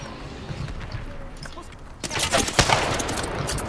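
Bursts of gunfire from a shooter video game, quiet and scattered at first, then a loud, dense volley of rapid shots in the second half, with faint speech-like sounds mixed in.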